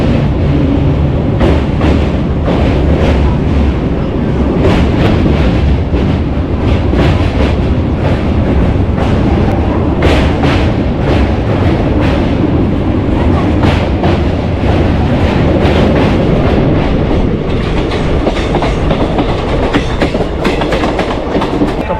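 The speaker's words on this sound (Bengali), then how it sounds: "আর ট্রেনটা তোমার বিফোর টাইমে ঢুকিয়ে দিল।" The Black Diamond Express arrives at Dhanbad station with a loud, continuous rumble and rhythmic clickety-clack of wheels over rail joints, unbroken for over twenty seconds with no talk.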